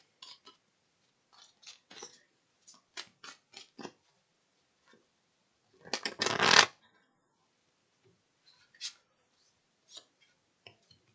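Tarot cards being shuffled in a quiet room: scattered soft riffles and taps, then one dense, louder burst of rapid shuffling, followed by a few faint card flicks.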